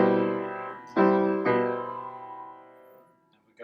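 A piano plays one measure of a song: a sustained chord followed by two firmer struck chords in quick succession, ringing out and decaying softly, close and unaccompanied.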